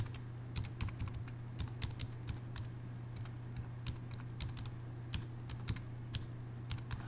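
Typing an email address into a website form on a computer keyboard; a quiet, irregular patter of light key clicks close by over a steady low hum, with no talk.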